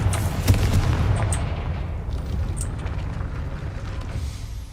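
Fiery Confringo spell explosion in the game Hogwarts Legacy, a loud booming blast at the start that rolls into a sustained rumbling roar, gradually easing off over several seconds, no voices.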